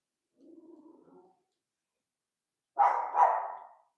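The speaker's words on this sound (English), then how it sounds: "She's barking." Nim, a dog, gives a low muffled grumble, then after a pause a louder double bark, somewhat distant against silence.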